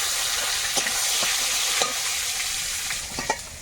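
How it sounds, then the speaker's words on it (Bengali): Bay leaves and panch phoron sizzle steadily in hot oil in a kadai, a close crackling hiss with occasional clinks of a spoon stirring the pan. "কড়াইতে তেল আছে ওই তেলের মধ্যে এখন একটু মশলা দিয়েই একটা তরকারি চাপিয়ে দেবো"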